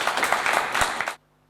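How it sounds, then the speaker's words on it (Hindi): Audience applause for singer Yashpal on a televised singing competition stage, a dense burst of clapping lasting about a second before stopping abruptly. "जोरदार तालियां हो जाए यशपाल के लिए।"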